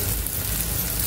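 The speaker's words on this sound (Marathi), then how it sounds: "फ्राय होऊन देऊया, शॅलो फ्राय." Tikki shallow frying in an appe pan on a gas stove, a steady dense sizzle and crackle of oil, close and even throughout with no talking.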